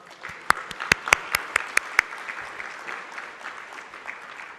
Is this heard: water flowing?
no